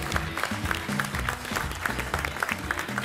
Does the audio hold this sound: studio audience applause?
yes